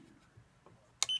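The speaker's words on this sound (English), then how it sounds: "Push the down button" A MINI60 keyboard gives a short electronic beep as its down button is pressed, a single bright tone near the end of an otherwise quiet stretch.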